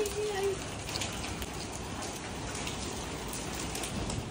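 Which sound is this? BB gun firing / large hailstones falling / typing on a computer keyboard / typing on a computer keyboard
large hailstones falling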